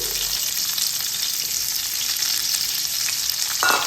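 Two chopped onions frying in about three spoons of hot oil with four cardamom pods make a loud, constant sizzle with no pauses, ending in a brief stirring scrape.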